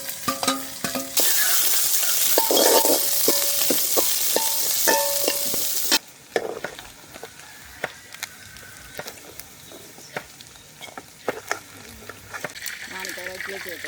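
Chopped onion, fenugreek, fennel and curry leaves hit hot coconut oil with a loud, bright hiss that fades after several seconds into quieter frying with sharp spoon clicks and scrapes against the pan.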